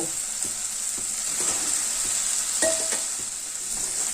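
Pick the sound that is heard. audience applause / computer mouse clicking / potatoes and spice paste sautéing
potatoes and spice paste sautéing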